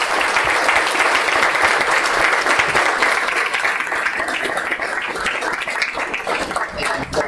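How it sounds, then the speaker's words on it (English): Event audience at a healthier-communities launch in New York City giving a sustained round of applause, dense and steady at first, then gradually thinning and softening toward the end, with no talk over it. "Please give them another round of applause."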